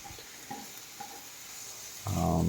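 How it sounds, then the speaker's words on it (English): Mushrooms frying in a pan for an Italian pasta dish, quiet scrapes and light stirring at first, then a loud, steady sizzle bursts in near the end as the pan heats up. "this is telling you that your mushrooms are cooking fine"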